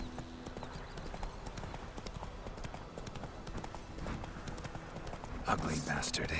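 Hooves of a ridden horse clip-clop in a steady galloping rhythm in The Witcher 3 on PS4, close and continuous, while a voice talks over it and a louder burst of noise rises near the end.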